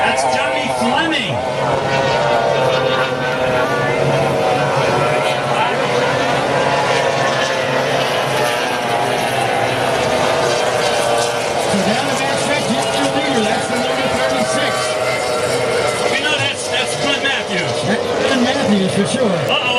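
SST120 racing powerboats running an Optimax and a 2-liter Mercury outboard, their loud, steady high-revving engine roar filling the air without a break while a commentator talks over it.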